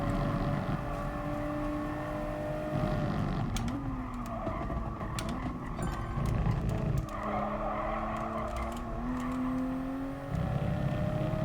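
Race car tyres skidding and squealing at the limit in Gran Turismo Sport during an FIA Nations Cup race, sustained engine roar with sliding tonal squeals rising and falling, loud and close throughout.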